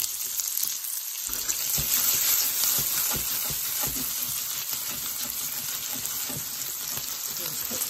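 A pan with a little olive oil and a small bit of butter starts frying: after a brief quiet moment, a steady close sizzle begins and crackles on with scattered pops.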